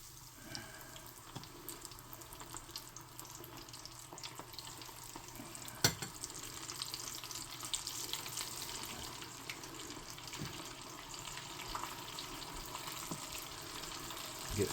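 Catfish and french fries fry in hot oil, a quiet steady hiss and crackle of bubbling oil running throughout, with a few faint clicks and one sharper knock midway, no talking.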